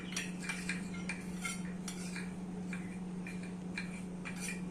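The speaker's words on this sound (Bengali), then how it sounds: "একটা বাটিতে 2 চামচ কর্নফ্লাওয়ারে ঘি দিয়ে ভালো করে গুলে রেখে দেব।" A spoon taps and scrapes rhythmically against a bowl while cornflour is mixed with ghee, giving light, quick clinks over a faint steady hum.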